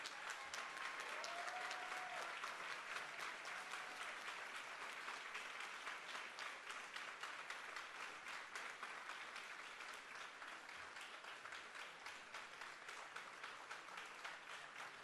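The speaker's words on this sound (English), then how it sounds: "Can we have a large round of applause for Comrade Andrónico?" A large crowd at the People's Summit gives a long, sustained round of applause, dense and continuous clapping holding at an even level from start to finish, heard at a distance.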